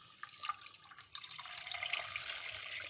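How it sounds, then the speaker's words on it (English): Milk poured into 1.5 cups of basmati rice, a soft, close trickling and splashing of liquid that runs steadily throughout. "to that now I'm going to be adding my milk"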